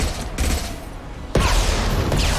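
Gunfire in Mass Effect 2 Legendary Edition, a loud sustained volley that cuts off and then resumes more strongly after a sharp boom.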